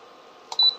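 A cooker's timer being set gives a soft click followed by one short, clear, high-pitched electronic beep, close and alone.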